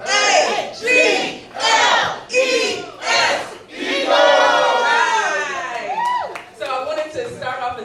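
Philadelphia Eagles fans chant in rhythmic call-and-response bursts, a loud crowd shouting in unison, then a sustained cheer and scattered calls at an indoor open house event.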